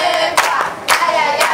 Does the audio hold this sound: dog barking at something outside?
no